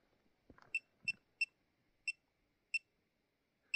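Short high-pitched electronic beeps from a K2 EMF meter repeating at irregular intervals, about six chirps, with faint handling noise in between in a quiet space at night on a quarry road.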